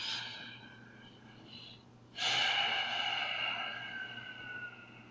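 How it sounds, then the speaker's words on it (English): A person breathing loudly through the nose at close range: a soft airy stretch, then a sudden stronger rush of air that holds steady and slowly fades, with a low hum underneath. "My nose obviously wants to breathe."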